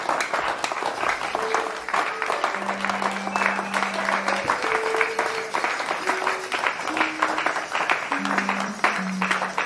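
A church congregation applauds steadily at a worship service, loud and close, with a continuous wash of clapping throughout and sustained organ or keyboard tones playing underneath.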